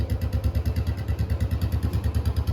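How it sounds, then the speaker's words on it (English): A 2016 Royal Enfield Bullet Standard 350 BS3 idles steadily after an oil change, its single-cylinder thump pulsing in an even, rapid beat, close and clear with no talking. "it's always a good practice to start the vehicle and keep it in idling for a while"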